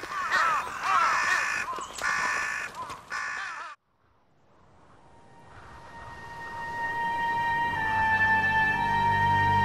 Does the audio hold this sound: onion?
no